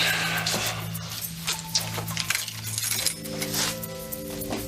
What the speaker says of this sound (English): Those look like the keys to your car.